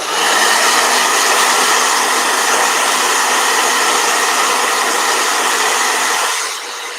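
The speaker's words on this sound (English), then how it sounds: "No, blow dryer." A blow dryer runs steadily in a room, a loud, even whirring hiss that holds for several seconds before dropping lower near the end.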